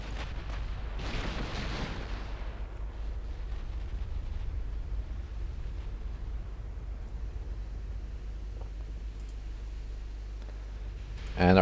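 Battleships firing in a naval strategy game, a heavy boom followed by a long rumbling decay that fades into a low steady background, with a second sharp report at the very end.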